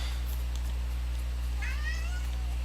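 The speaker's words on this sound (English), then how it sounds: "Kitty says hi, everyone" A pet cat lets out a single short meow partway through, near and clear over a steady low electrical hum.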